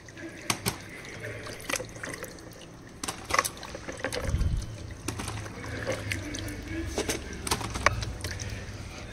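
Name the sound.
washing fruits under running water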